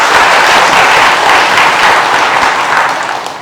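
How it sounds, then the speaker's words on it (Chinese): A church congregation applauds its Sunday school teachers during a Taiwanese sermon, a steady, loud wash of clapping that holds for several seconds and eases slightly toward the end, with no voices over it. "我们给我们现场主日学老师拍掌好不好"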